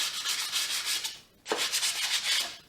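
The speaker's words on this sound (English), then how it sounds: "This is all hand sander." Hand sanding of raw wood, close and loud rhythmic rasping strokes in two runs separated by a short pause.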